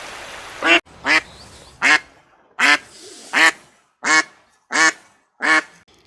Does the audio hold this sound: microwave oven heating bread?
no